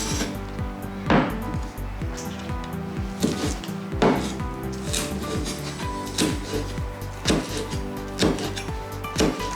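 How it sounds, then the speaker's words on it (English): Knife chopping green onions on a board, steady repeated thuds with a few sharper knocks, close and moderately loud, no talking. "let's chop our green onions"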